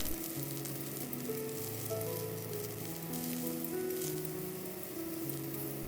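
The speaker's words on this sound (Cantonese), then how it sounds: "用中大火炒香啲洋蔥" Onions sizzle steadily over medium-high heat in a hot wok, a continuous crackling hiss beneath soft background music.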